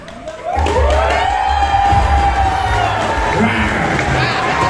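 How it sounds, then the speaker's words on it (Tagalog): Audience at a Miss Macho Man 2024 entertainment show erupting in loud clapping and cheering with whoops, dense and sustained, mixed with shouting voices. "Sabay-sabay po natin palakpakan na may kasamang hiyawan."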